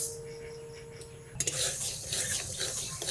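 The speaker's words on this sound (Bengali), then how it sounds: "এখন মুগ ডালগুলো আগে ভেজে নেই গরম কড়াইতে ডাল দিলাম" Mung dal dropped into a hot wok over a wood-fired clay stove, a sudden clatter giving way to a steady close sizzle and scraping as the lentils fry.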